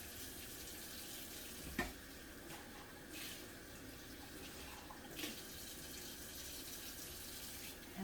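Water runs steadily and quietly from a kitchen tap while something is washed with a sponge and soap, with a couple of faint clunks against the sink.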